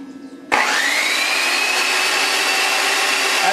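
A Black & Decker variable-speed car buffer switches on abruptly and runs steadily at a close, loud, constant whine, with no talk over the motor.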